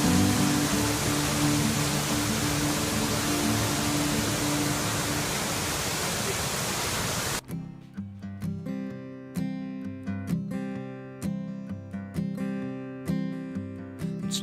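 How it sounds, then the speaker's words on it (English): A waterfall in Glacier National Park roars as a steady, loud, broadband rush for about seven seconds, then cuts abruptly to music. "This is your waterfall."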